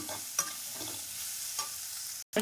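Onions frying and being stirred in a pan with green peas for a simple kurma, a steady close sizzle with a few sharp scrapes of the spoon and a brief break near the end.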